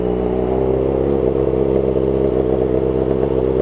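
Kawasaki ZX-4RR motorcycle engine running close and loud as the throttle is pulled, its steady buzzing drone wavering slightly and unevenly as it stutters, with no talking.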